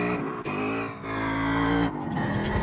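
A motorcycle in a video game hums with a steady, tonal engine drone that dips briefly twice and shifts pitch as the bike slows to a stop, heard alone without talk.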